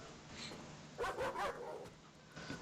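A Rottweiler barks in Tomb Raider: The Angel of Darkness on PS2, a short cluster of three or four quick barks over steady game ambience, with a fainter bark near the end.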